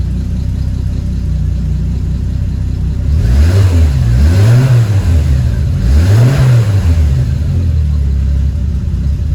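A car engine is revved twice in quick succession from idle, each rev rising and falling in a deep rumbling swell, close and loud with a steady engine drone between.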